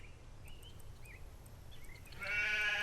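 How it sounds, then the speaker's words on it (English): A sheep in the video game Solarpunk gives a few short, faint bleats over quiet ambient game sound, then a louder, longer bleat near the end. "There's that sheep."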